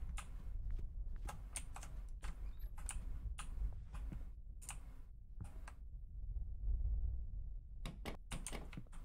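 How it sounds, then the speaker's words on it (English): Typewriter keys clatter in the game Reminiscence, sharp irregular strikes in short bursts with a pause and then a closing flurry, over a low hum, with no one talking. "It's a typewriter."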